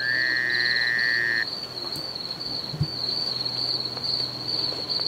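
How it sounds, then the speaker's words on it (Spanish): In the survival video game The War Z, a constant shrill insect-like trill rings alongside a frog's croaking in a night ambience. A second tone drops out early on and a brief low thump comes near the middle. "Escucho una rana."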